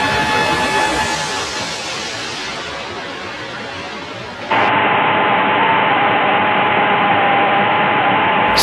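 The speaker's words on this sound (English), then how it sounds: "Static interference." Static interference sound effect: loud hissing white noise that fades slightly, then jumps to a harsher, brighter static burst for the second half, with no voices.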